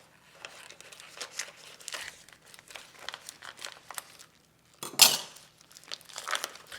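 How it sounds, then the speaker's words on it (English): Frozen meat pulled from a plastic freezer bag, heard as close, quiet crinkling and rustling of plastic with a few knocks and one sharp crackle, no talk. "So I'm going to take it out of my freezer bag."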